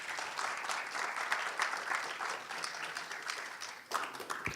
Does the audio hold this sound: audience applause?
yes